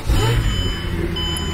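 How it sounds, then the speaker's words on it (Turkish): Mercedes E63 AMG engine, likely a V8, heard from inside the car with a window slightly open, a steady low rumble holding at a fairly loud level throughout. "E63 olunca ses böyle geliyor"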